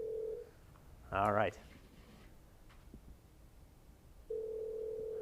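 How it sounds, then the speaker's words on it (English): Telephone ringback tone on a live call, a steady tone repeating in two bursts separated by a long gap, with a brief spoken voice in between. "it sounds like it's ringing"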